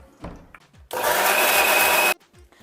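A new pink kitchen mixer grinder (mixie) with tomatoes, green chillies, mint and coriander runs in one loud steady burst of about a second, with quieter kitchen clatter before and after.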